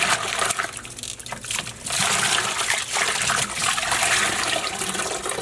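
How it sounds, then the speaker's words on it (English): Water pours and trickles steadily into a container filled with soapy water for soaking dyed yarn, a continuous rushing stream at close range with no voices. "Fill this up and soak it in some soapy water for a little bit"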